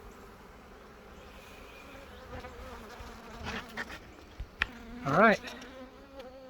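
Honeybees pour out of a freshly caught swarm trap outdoors, a steady buzzing hum with individual bees zipping close past the microphone in louder bursts near the end; someone speaks briefly.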